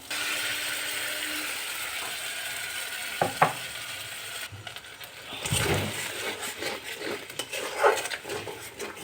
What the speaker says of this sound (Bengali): এটা একটু নাড়াচাড়া করে নিলাম।